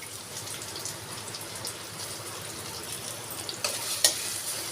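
Chopped onion with crushed ginger and garlic sizzles steadily in a pan, a continuous close frying hiss with faint stirring scrapes near the end.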